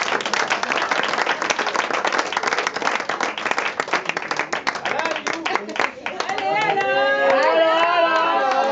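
Audience at a 2016 tournament prize-giving ceremony claps in a dense, fast burst of applause, with voices and speech rising over it as the clapping thins out.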